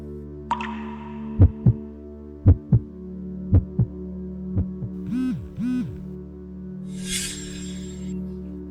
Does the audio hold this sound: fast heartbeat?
yes